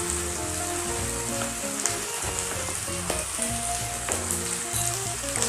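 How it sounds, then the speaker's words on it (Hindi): Spice masala for a Bihari-style small fish curry sizzles steadily in hot oil, a dense continuous crackle with soft stirring, while a melodic tune plays quietly underneath. "मसाले को हम अच्छे से भूनेंगे जब तक मसाले से हमारे ऑयल ना निकल जाए"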